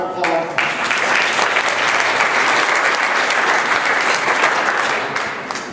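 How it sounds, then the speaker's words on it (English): Loud, sustained applause from a crowd at a Beacon Hill Chanukah event honoring the Secretary of Transportation, dense clapping filling the room from start to finish before tapering slightly. "so give her a round of applause."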